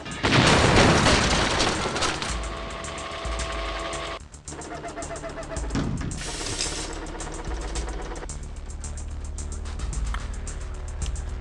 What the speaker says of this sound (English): Fortunately, they didn't react to that explosion or anything.